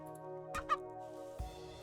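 In the strategy game Age of Mythology Retold, chickens give two quick clucks over a steady game music drone, and a soft thud follows a moment later.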